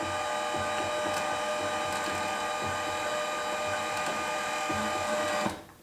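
Wire feed of an EA 40205M battery-powered MIG welder running at fast speed, a steady mechanical whir and hum with faint ticking, heard up close and ending abruptly.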